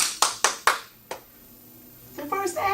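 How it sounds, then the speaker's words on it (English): A handful of sharp, separate hand claps ring out in quick succession, then fade into a quiet pause before voices rise toward the end; no clear screaming stands out. "They clapping and screaming"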